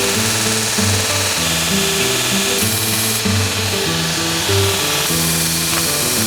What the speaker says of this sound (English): Let's grind it down.